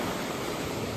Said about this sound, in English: the waves roll back off of Pebbly Beach.